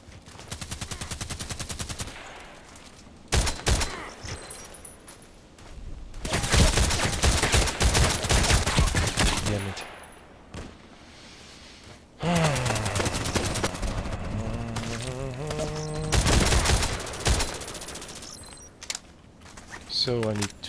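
Shooter-game gunfire: repeated bursts and rapid automatic fire in several stretches, loud and close, mixed with sharp clicks and other game sounds, while a voice talks over parts of it.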